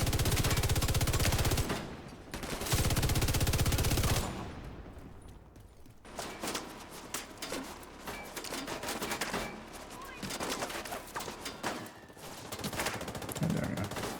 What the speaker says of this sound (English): I was wondering what was shooting me from that side.